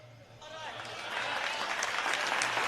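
Audience applause at a live comedy and satire performance, building from a few claps into a full sustained round that stays loud to the end.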